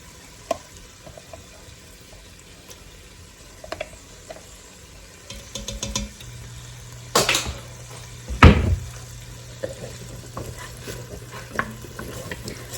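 A tablespoon of garlic cooking in leftover bacon grease in a pan, a low background sizzle punctuated by sporadic stirring clatters and a couple of sharper clanks, with no one talking.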